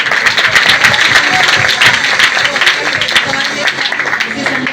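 A congregation applauds at a Sunday prayer meeting, dense steady clapping filling the room throughout with voices mixed in beneath it.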